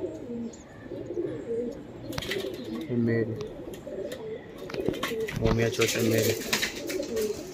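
Pigeons cooing in a loft, including a pair of black-spotted birds, with repeated soft low coos close by while someone talks over them.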